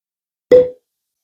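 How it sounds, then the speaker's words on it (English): A single short, hollow pop rings out close by in otherwise complete silence, like a cork pulled from a bottle. "pause for cork pop"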